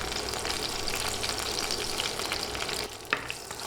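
Three dried red chillies and panch phoron spices frying in hot oil, a dense close sizzle with light stirring and a single small knock near the end.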